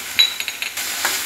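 Onion and capsicum sizzle in a pan on the gas, with a soft frying hiss broken by several short scraping stirs and light clinks of a utensil against the pan, close and fairly loud.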